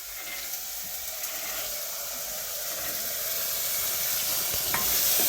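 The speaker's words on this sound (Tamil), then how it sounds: "சுண்டலை சேர்த்து வெங்காய தக்காளியோடய நல்லா வதக்கி வச்சுருக்கேன்" Soaked black chickpeas sautéing with onion and tomato in a village home kitchen, giving a steady, close sizzle that grows slightly louder over the stretch, with no talking.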